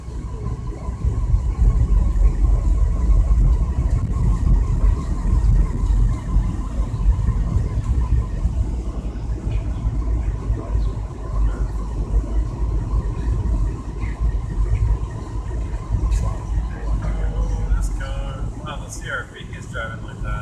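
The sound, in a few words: car driving on slippery road to Walmart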